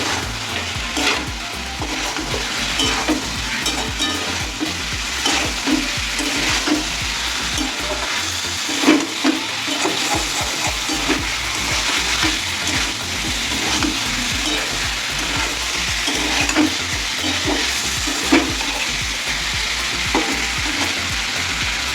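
Potatoes and cauliflower fry and get stirred through a cooked-down spice paste in a pan, a steady close sizzle broken by repeated scraping stirs, with no voices throughout.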